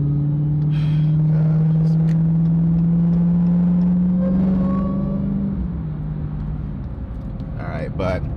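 A Dodge Hellcat merges onto a busy highway, its engine a loud, sustained low drone that swells and then eases off as road noise takes over, while someone talks over it.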